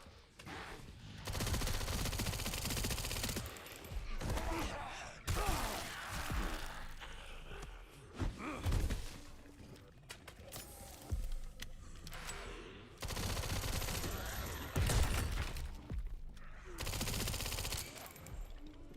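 Bursts of SMG fire from the video game Resident Evil Requiem on Insanity Mode, coming in several loud, sustained rattling volleys separated by brief lulls, with other game noise between them.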